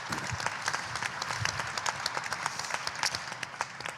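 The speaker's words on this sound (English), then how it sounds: "So let's give a round of applause for them if you wouldn't mind." Steady applause from an audience at a local climate change presentation event, moderately distant and continuous with individual claps standing out throughout.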